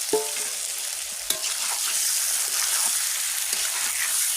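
Taro greens frying in a pan with chili and ginger paste, a steady loud sizzle with a sharp clank near the start and occasional stirring scrapes throughout.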